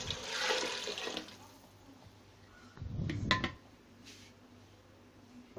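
Water splashes and gurgles in two short bursts, the second a quick pour of about 1.5 jugs into a metal pressure cooker with kidney beans, with quiet moments between.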